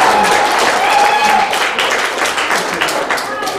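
A concert hall audience applauds loudly to welcome a volunteer onto the stage at a small Friday concert, with dense, steady clapping that fades slightly toward the end.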